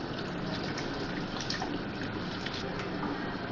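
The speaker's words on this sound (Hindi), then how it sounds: "ये पानी में उबाल आ गया है, और हाफ केजी मैंने बासमती राइस लिए हैं, इनको मैंने आधे घंटे के लिए भिगो दिया था। अब ये मैं डाल रही हूँ।" Soaked basmati rice is poured into a pot of boiling water with a steady, hissing wash of bubbling and gushing liquid that stays even and close throughout, with no talking.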